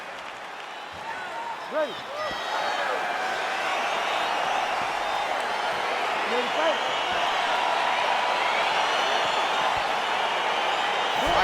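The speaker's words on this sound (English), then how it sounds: "crowd getting excited as this fight gets underway" Arena crowd at a UFC 307 bout between Alex Pereira and Khalil Rountree, a broad steady roar with scattered cheers and shouts carrying through the whole stretch as the fight begins, with a voice speaking over it.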